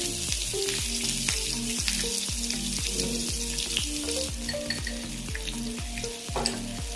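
Green chillies frying in a tablespoon of oil for chicken 65, with a steady high hiss and crackle that plays beneath prominent melodic background music throughout.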